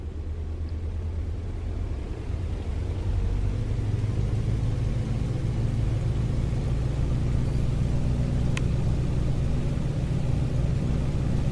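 Three-engine Junkers Ju 52 accelerating down the runway on its takeoff roll in Microsoft Flight Simulator 2020, a heavy, steady engine roar that builds slightly and holds, with a faint brief click partway through.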